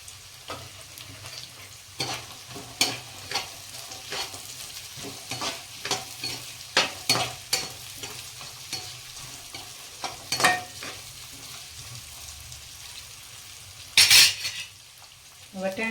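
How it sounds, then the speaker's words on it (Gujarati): Green peas stir-fried in a pan for vegetable pulao, with a steady sizzle under repeated scrapes and clinks of a spoon against the pan, plus a louder metallic clatter near the end. "હવે વટાણા નાખીશું"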